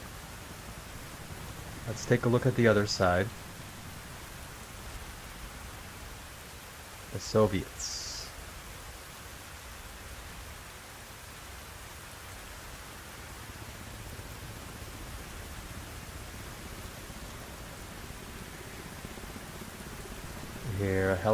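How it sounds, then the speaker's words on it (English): Rain falls as a constant soft hiss through a military-style game session, with someone speaking in two short bursts and again near the end over the wash of the rain. "And ooh, it is raining today."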